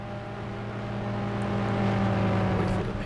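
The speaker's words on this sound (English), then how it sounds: "Pace car." In a racing video game, an IndyCar-style pace car's engine hums in a steady, moderately loud tone that rises gently and swells toward the end, with no talking.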